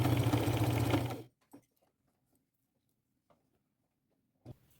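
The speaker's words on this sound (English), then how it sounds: "I am going to sew it on with a simple straight stitch" A sewing machine runs a straight stitch with purple thread through upcycled clothing, a loud close rapid whirring for just over a second, then stops abruptly, followed by a few faint handling knocks.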